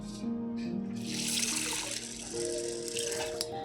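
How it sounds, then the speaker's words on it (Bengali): Water is poured over chana dal in a bowl to soak it, giving a steady, close trickling and splashing pour that runs for a few seconds over a faint tonal background. "তো এই ছোলার ডালটা আমি একটু ভিজিয়ে দিয়ে দেবো।"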